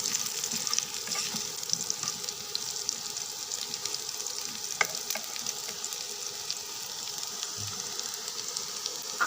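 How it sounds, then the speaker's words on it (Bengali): Potatoes frying in oil until reddish, a steady close crackling sizzle with occasional stirring clicks running evenly throughout, with no voices. "আমি একটু লাল লাল করে আলুগুলা ভেজে নেব।"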